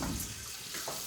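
Warm water runs from a tap or is poured into flour for tortilla dough, a brief continuous splashing trickle, fairly quiet and close, with no voices.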